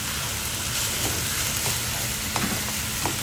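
Ground beef stir-fries in a pan with a steady close sizzle, broken by a few soft scrapes and clicks of a utensil as the meat is moved around.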